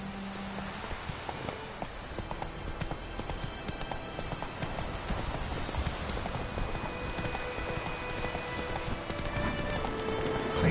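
Roach the horse galloping in The Witcher 3, rapid rhythmic hoofbeats pounding steadily throughout, joined by light rain-like patter and a faint voice in the background.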